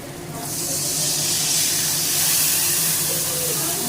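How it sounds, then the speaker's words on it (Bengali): Water poured into a hot pan of spiced fish curry with coriander powder sets off a sudden loud hiss of steam that swells within half a second and holds steady, close and alone, with a voice faintly beneath. "জল দিয়ে দিচ্ছি।"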